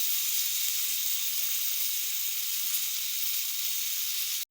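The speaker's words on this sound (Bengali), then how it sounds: "ফট ফট করে সিমগুলো ফুটছে কেমন করে" Flat beans frying in hot oil give a dense, steady sizzle with fine crackling pops throughout. It is close and fairly loud, then cuts off abruptly at the end.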